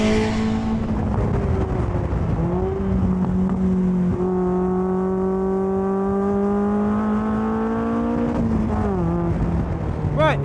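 A Westfield Se.NA R-T track car engine drones steadily on a race track, its pitch rising and falling through gear changes in a continuous close-up in-car roar.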